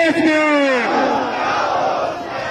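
A large crowd at a protest march against railway privatisation shouts a slogan together, loud and close, one sustained collective cry that slowly fades into general crowd noise.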